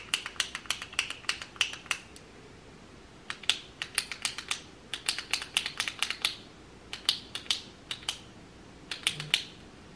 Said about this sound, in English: Let's give her a couple clicks